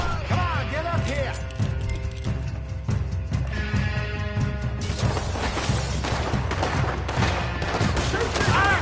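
Gunfire in the video game Red Dead Redemption 2, rapid loud shots and cracks in a continuous frantic barrage alongside shouting voices and a background music score.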